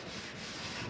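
Hand sanding a scooter's metal gas tank, a close, steady rough scratching rub lasting under a second with no voices.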